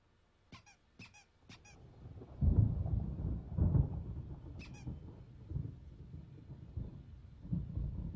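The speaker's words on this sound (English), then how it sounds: "There's a storm coming. Oh, what a storm." Low thunder rolls and rumbles during a storm in the video game Alan Wake, building after a few sharp squeaky chirps and swelling in waves, moderately loud.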